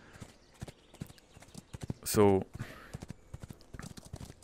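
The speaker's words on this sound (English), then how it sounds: "let's see if I can maintain a gallop down this hill" Horse galloping in the VR video game Kroy, heard as rapid rhythmic hoof clip-clop beats running through the clip, with a brief louder burst midway and a person talking over it.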